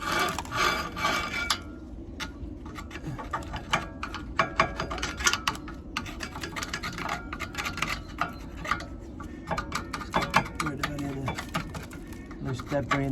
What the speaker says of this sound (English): We can give this disc a quick whiz round with the screwdriver, just to get it very loose.